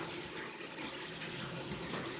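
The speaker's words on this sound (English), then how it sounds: "You hear the water running." Water runs steadily from a faucet fed by an EcoSmart 11 kW tankless electric water heater with a small internal turbine, a continuous even hiss of flow throughout with no talking.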